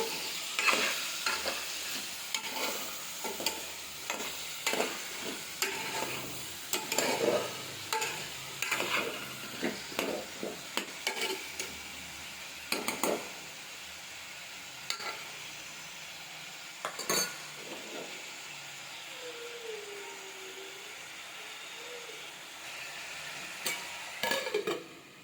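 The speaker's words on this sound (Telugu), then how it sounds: "దొండకాయలన్నీ వేసేసి 10 మినిట్స్ ఆరుగా ఫ్రై అవ్వనివ్వాలండి" Ivy gourd (tindora) frying in a pan for a curry, with steady close sizzling and frequent scraping, clinking stirs of a utensil against the pan, louder in bursts and then easing.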